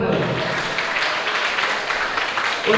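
A seminar audience at a dental health talk in an Indonesian clinic applauds together, a dense, steady wash of clapping from a crowd that stays loud and even throughout.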